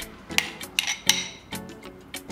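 Pork lard is ladled into a small pot: a handful of light metallic clinks and taps come close and quiet, spaced unevenly over about two seconds.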